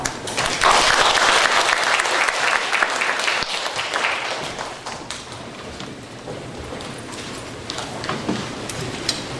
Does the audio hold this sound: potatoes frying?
no